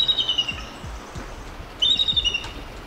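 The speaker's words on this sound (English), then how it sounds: "is not a bald eagle, but actually a hawk, most likely a red-tailed hawk like this one" A hawk's call, most likely a red-tailed hawk, set over bald eagle footage: two shrill, descending screams about a second and a half apart, sounding loud and fairly close, with no talking.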